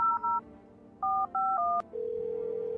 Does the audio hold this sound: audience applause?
no